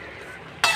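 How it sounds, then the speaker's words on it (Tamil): A spoon briefly scrapes and stirs cabbage and chana dal kootu in a pan. After a quiet stretch, one short, fairly loud stir sounds near the end. "கலக்கி விடுங்க"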